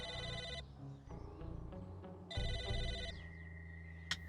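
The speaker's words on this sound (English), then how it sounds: "I should probably answer the phone, eh?" In the video game Psychonauts 2, a telephone rings in two electronic bursts, loud and bright, with a pause between them over a steady layer of game music.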